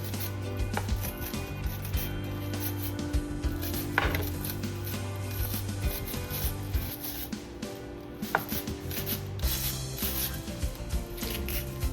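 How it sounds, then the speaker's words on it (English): Half an onion being shaved on a grater in a home kitchen, repeated scraping rubs with a few clicks and knocks, close up over a steady tonal hum. "I'll shave about half an onion."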